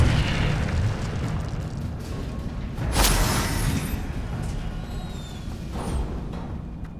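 Incendio fire spell cast in Hogwarts Legacy, a booming fiery burst erupting midway over a steady rumbling background, loud and near, with a lighter flare near the end.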